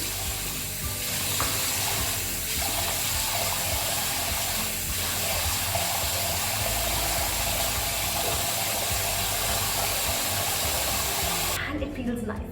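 Tap water runs steadily into a sink while face scrub is rinsed off, a close, continuous hiss and splash that stops abruptly at the end.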